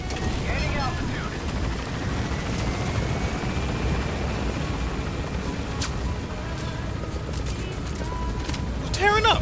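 Pequod helicopter gaining altitude in Metal Gear Solid 5, a continuous rotor drone and thumping hum throughout, with voices speaking over it.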